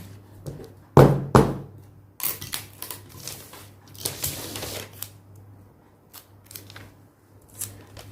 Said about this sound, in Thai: เนี่ยไล่กระดาษให้เรียบนะคะ อย่าเขาย่น